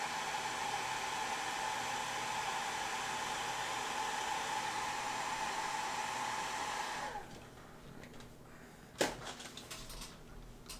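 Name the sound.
hair dryer blow drying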